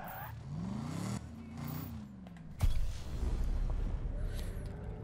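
A Dodge Viper in the Need for Speed video game growls and shifts through rising engine pitches, then a sharp impact leads into a dense, loud rumble of driving.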